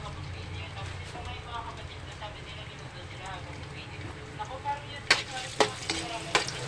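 Garlic frying in a pan while being stirred, a steady low sizzle joined by a run of sharp spoon clacks and scrapes toward the end, close by, with a voice talking over it.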